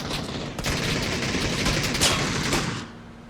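PUBG video game gunfire rings out as a dense, rapid volley of sharp shots for about three seconds, loud and close, then cuts off abruptly.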